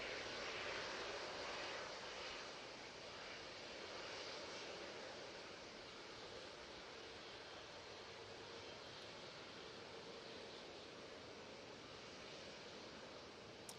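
A Ryanair airliner departing Manchester Airport for Dubrovnik, its jet engines giving a steady, broad roar that holds at an even level throughout, fairly distant and with no voices.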